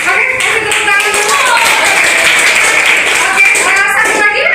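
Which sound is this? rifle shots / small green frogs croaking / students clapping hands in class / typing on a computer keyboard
students clapping hands in class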